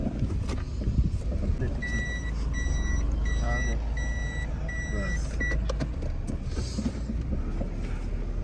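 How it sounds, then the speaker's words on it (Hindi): A car turns around while its reversing alarm beeps in an even repeating series, loud and close, over a steady engine rumble and road noise. "हम भी अब गाड़ी मोड़ते हैं।"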